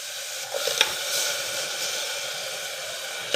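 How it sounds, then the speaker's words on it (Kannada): Chicken gravy masala sizzles in a pan with tomato paste added, a steady close frying hiss with a few brief crackles and stirring sounds, no talking. "ಟೊಮೆಟೊ ಪೇಸ್ಟ್ನ ಸೇರಿಸ್ಕೊಂಡು ಚೆನ್ನಾಗಿ ಇದನ್ನು ಫ್ರೈ ಮಾಡ್ಕೊಳ್ಳಿ"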